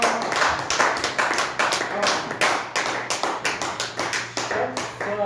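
Clapping from a church congregation applauding a donor: a dense, fairly loud patter of many hands, with steady rhythmic claps building through, and a voice speaking over it.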